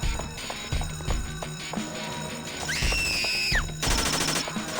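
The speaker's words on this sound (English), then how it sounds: "Amidst this pandemonium, the gunshots of the gunfire of the submachine guns echo." Rapid bursts of submachine gun fire crackle through a chaotic dramatized battle scene, with a ringing electronic tone and harsh noise layered over the shots.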